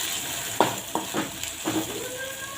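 Spices including black masala, garam masala and coriander powder fry in a pan for moong dal bhaji, with a steady sizzle and a few distinct knocks and scrapes of a stirring spoon, close and without talk.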